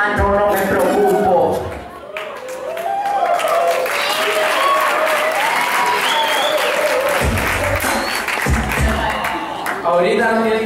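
A crowd at a Spanish-language rap battle breaks into loud, sustained applause and cheering that fills most of the stretch, with voices shouting over it at the start and end.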